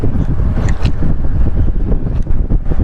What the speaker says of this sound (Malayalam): കൂടാണ്ട് നല്ല കാറ്റുണ്ട്